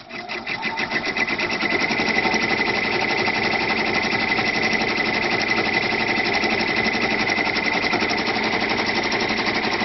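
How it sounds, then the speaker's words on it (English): An embroidery machine stitches a design onto toilet tissue with a loud, steady, rapid mechanical chatter that runs evenly throughout, with no talking. "now I'm going to stitch my design. And we're stitching."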